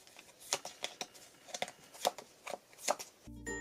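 A Magic: The Gathering deck is shuffled by hand, a close run of crisp riffling card bursts in an uneven rhythm, ending with a brief clunk.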